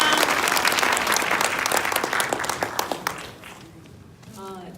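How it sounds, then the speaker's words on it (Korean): Audience applause at the close of a lecture by a National Assembly member during a new party member training session, dense and loud at first, then thinning into scattered claps and fading as a voice begins. "우리 제이콥 국회의원님께 더 뜨거운 박수 한번 부탁드립니다"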